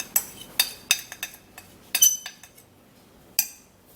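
A metal spoon clinking against a bowl while potash powder is transferred into a smaller bowl, a handful of sharp, bright taps in uneven rhythm with quiet gaps between, close and alone.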